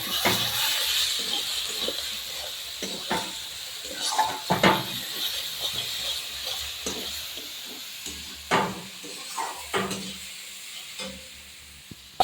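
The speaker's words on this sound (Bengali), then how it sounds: "এক চামচ হলুদ গুঁড়ো, 1 চামচ কাশ্মীরি রেড চিলি পাউডার, আর 1/2 চামচ লবণ দিয়ে ভালো করে কষাবো।" Turmeric, Kashmiri red chilli powder and salt sauté in a hot pan for a fish curry, a steady sizzle broken by repeated scraping and clinking stirs of a spoon against the pan.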